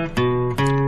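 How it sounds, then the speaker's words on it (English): Two plucked guitar notes from a Dora the Explorer PC music game, each ringing with a sustained tone, heard clearly and alone without speech. "It's the sound of a guitar."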